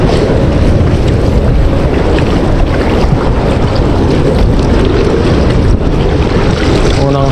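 Strong wind buffets the microphone over choppy, shallow sea water while fishing from a boat, a loud continuous roar of gusts and waves with no pause.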